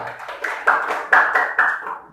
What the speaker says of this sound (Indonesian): Tepuk tangan buat Mirna